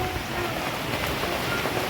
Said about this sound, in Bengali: দেখেছো হাওয়া দিচ্ছে ঝড় হচ্ছে